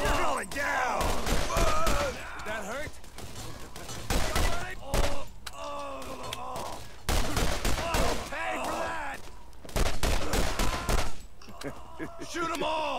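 Rapid pistol fire from the Borderlands video game, GOTY Enhanced edition, in repeated bursts of sharp shots separated by short gaps, mixed with creature and combat sounds.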